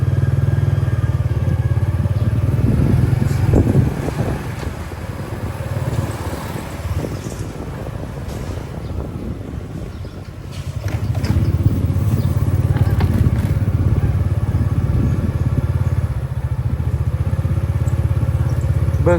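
A motorcycle rides through a busy market street, its engine droning steadily close by with clattering street noise, easing briefly midway before picking back up; voices are faintly heard in the background.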